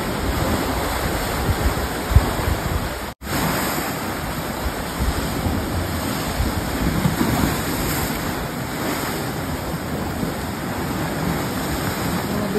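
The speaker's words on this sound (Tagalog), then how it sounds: "grabe nagwala jud ang dagat ang panahon na oh" Rough sea surf crashes steadily onto the shore in stormy weather, a continuous loud roar of breaking waves with wind buffeting the microphone and one sharp dropout partway through.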